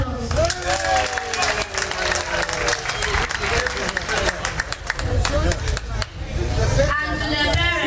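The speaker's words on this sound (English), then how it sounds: "let's give him a hand of applause." Audience applause for a child at a church celebration, steady clapping mixed with crowd hubbub and voices continuing throughout, fairly loud and close.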